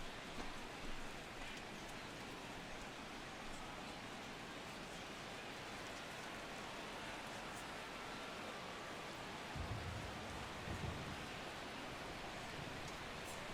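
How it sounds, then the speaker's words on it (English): Steady rain falls on a baseball game in MLB The Show 16, a soft, continuous hiss of downpour with faint low rumbles partway through and no voices over it. "The rain, as we've mentioned, coming down fairly steadily here at game time."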